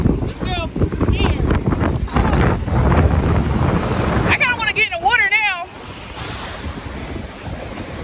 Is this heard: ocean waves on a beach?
yes